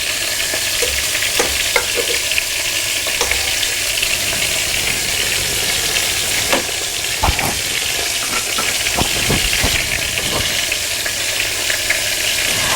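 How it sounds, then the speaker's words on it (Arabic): Butter melting in a frying pan gives a loud, steady, hissing sizzle that runs without a break, with occasional faint clicks and pops underneath. "الزبده بقى بتاعتنا هنحطها في الطاسه، ونسيبها بقى تسيح شويه"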